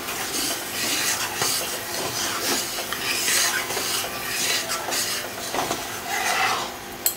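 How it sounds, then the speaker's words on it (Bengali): Whole eggs slipped into a simmering masala gravy in a pan, with steady bubbling and scraping stir sounds filling the space, close and fairly loud, no talking. "দেখুন জাল উঠে গেছে, এইবার আমি ডিমগুলো ছেড়ে দেব।"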